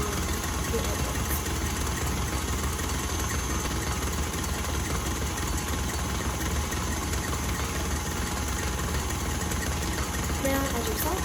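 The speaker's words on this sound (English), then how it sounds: "This is about 4 minutes into whisking your egg whites." Egg whites with sugar being whisked for macaroons, a steady continuous whirring mixer drone at even loudness throughout with no pauses.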